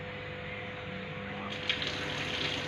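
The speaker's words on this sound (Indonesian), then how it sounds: "pertama itu kita hidupkan air keran dengan siku-siku." A tap is turned on with the elbow for handwashing in a clinical skills lab, and water runs in a steady even gush, growing slightly brighter partway through, over a constant background hum.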